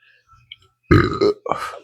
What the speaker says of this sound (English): Excuse me, pepper burp.